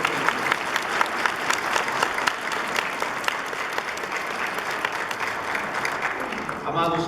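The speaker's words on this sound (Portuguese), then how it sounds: "Uma salva de palmas." A parish congregation at Mass applauds to welcome a new missionary team member, sustained dense clapping from a large group that fades near the end, with a voice over it.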